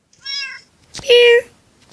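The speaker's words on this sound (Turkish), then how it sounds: "Aa kedim burada." A cat meowing in the Minecraft video game: two clear, loud meows, the second longer and stronger, with a sharp click between them.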